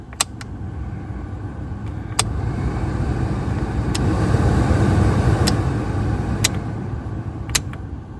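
A Scion xB blower motor fan runs on its low setting inside the car, a steady airy whir with a low rumble beneath it and a few sharp clicks scattered across it, close and without talk.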